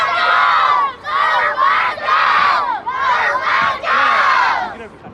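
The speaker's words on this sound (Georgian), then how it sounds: "აბა შევყვიროთ" A group of children shout together in loud, sustained bursts, several rising cries in a row separated by short breaths, close and energetic like a chanted crowd cheer.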